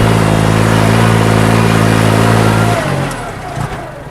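A rotary tiller's engine howls loudly and steadily close by with a strong droning hum that shifts and eases near the end.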